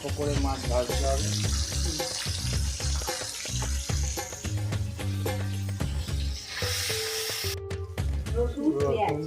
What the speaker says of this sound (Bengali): এরকমভাবে অল্প অল্প করে মাছ ভাজতে হবে।